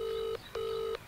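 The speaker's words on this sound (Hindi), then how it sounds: "रैंडम रैंडम कोई भी नंबर डायल करते" A phone call placed on speakerphone to a random number produces two long, steady electronic ringing-tone beeps with a short gap between them, loud and clear with no talk.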